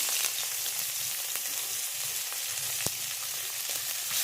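Five-spice tempering and chopped onion fry in oil, giving a dense, even sizzle with occasional sharp pops and crackles, heard up close and without any voices.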